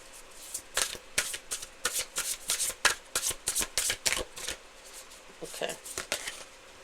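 Tarot cards being shuffled in quick riffling bursts, a rapid series of papery flutters close to the microphone, pausing briefly before another run.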